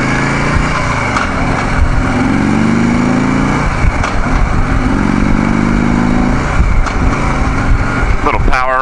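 Harley-Davidson Street Glide Special motorcycle accelerating on the road, loud engine rumble rising in pitch through two long pulls with a gear change between, heavy wind noise throughout and a brief voice near the end.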